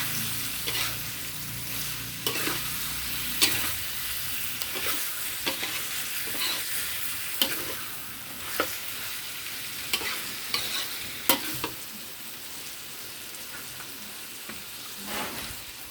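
Fish is stir-fried with pickled bamboo shoots in a pan, soft frying hiss broken by repeated sharp scrapes and clanks of a spatula at an irregular pace, no talk.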